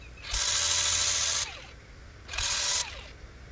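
A high-pitched power tool whines steadily while smoothing the neck of a carved sculpture, running in two separate bursts with a short pause between them.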